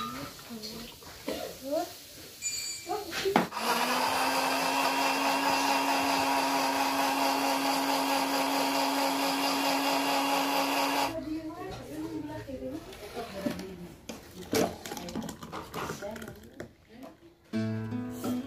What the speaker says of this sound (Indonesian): buah-buahannya udah kita blender semua